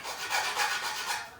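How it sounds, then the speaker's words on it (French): A hand file rasps along the cut edge of an aluminium Schluter tile profile in steady back-and-forth strokes, four or five close, bright scraping passes with no talk. "vous pouvez tout le temps adoucir cette coupe-là en utilisant une lime. Vous pouvez venir limer"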